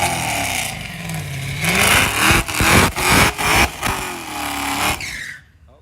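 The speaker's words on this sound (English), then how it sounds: "He could do a better burnout." A car doing a burnout at a drag strip during bracket racing: loud engine roar rising and falling through several sharp revving bursts, then cutting off abruptly to near silence.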